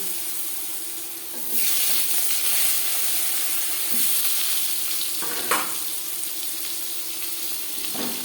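Potatoes and tomatoes drop into hot oil spiced with panch phoron for a Bengali fish curry, setting off a loud, bright sizzle and frying hiss that rises and holds steady, with a few stirring scrapes and no voices.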